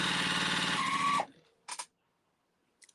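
A sewing machine stitches strips of Christmas fabric in one steady, fairly loud run of about a second, then stops, followed by a brief mechanical whir and a faint click.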